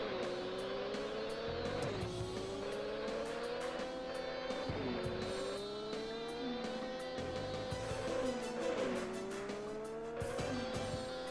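Racing car engine in Turbo OutRun on the FM Towns Marty, a steady synthesized engine tone that rises and drops in pitch with gear changes, alongside repeated tire squeals and skids, loud and continuous with no talking.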